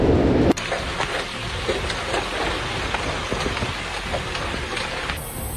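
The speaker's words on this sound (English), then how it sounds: "Hail falls heavily like a waterfall." Heavy, dense pelting of hail or rain on surfaces, a steady roaring patter with scattered sharper impacts, continuous and loud throughout.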